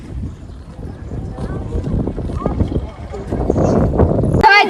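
Strong wind gusts across the open waters of Willingdon Dam in Junagadh, buffeting the microphone in a loud, continuous rush that builds toward the end, with scattered voices faintly audible beneath it.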